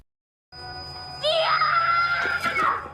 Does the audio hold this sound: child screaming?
yes